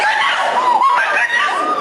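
A woman screams and cries out in shock during a live news broadcast of black smoke pouring from a burning building, her high, wavering voice loud and sustained for about two seconds.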